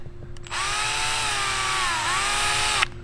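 A power drill bores into a BMW E36 engine block with a grease-coated bit. It gives a steady, loud, high whine for about two and a half seconds, dips briefly in pitch near the end, then cuts off abruptly.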